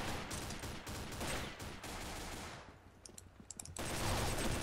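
Rapid gunfire in a capture-the-flag match on a snowy valley map, with dense bursts of shots through the first half, a brief lull, then loud firing again near the end.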